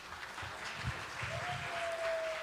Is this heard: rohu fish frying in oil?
no